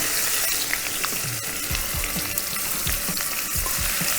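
Two medium diamond-cut onions with cumin fry in hot oil for a paneer and pea gravy, giving a steady, close sizzle throughout with a few soft stirring knocks underneath.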